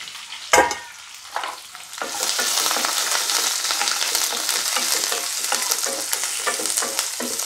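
Chopped vegetables, pumpkin among them, for Kerala aviyal tumble into a hot pan with a few sharp thuds, then a loud steady sizzle and frying crackle carries on, with no voices.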